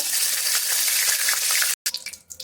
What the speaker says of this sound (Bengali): মাছ ভাজার তেলের ভিতরেই আমি ফোড়ন দিয়ে দিচ্ছি। প্রথমে দিচ্ছি একটা তেজপাতা,